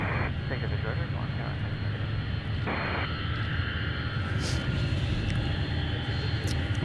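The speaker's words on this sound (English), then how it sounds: "You can hear those engines start to Spool up." Jet engines of an aircraft at Paine Field hold a steady, broad roar that rises slightly as they spool up, heard from a distance with wind noise and no talking.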